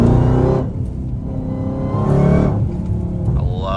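A supercharged blower car accelerates hard in low gears on a rainy road. The engine's loud, close rising roar drops briefly at a gear change and then climbs again, with no talk.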